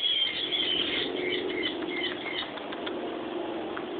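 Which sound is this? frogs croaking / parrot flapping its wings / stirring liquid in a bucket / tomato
parrot flapping its wings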